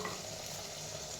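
Gongura chutney paste with onions being mixed in a pan, a faint steady scraping and sizzling texture, quiet and continuous with no voices.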